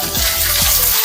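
Cut green chillies hit hot oil in a pan while cooking a beans and tomato curry, giving a steady close sizzle and hiss with a couple of soft stirring thumps, with no voices.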